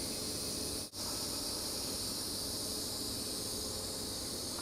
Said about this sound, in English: I hear the woodpecker back there, I hear the crickets.